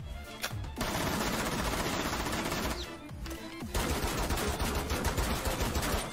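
Shotgun fire in the video game Rainbow Six Siege, a dense, loud stretch of rapid repeated blasts that pauses briefly twice before resuming, with no talk over it.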